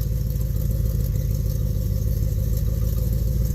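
1967 Chevelle engine idles with cracked exhaust manifolds and blown donut gaskets, a loud, steady rumble with a raw ticking, puffing leak pulsing through it, close and continuous with no talk.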